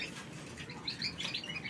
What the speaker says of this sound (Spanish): Vosotros solamente tienes que escuchar los pájaros.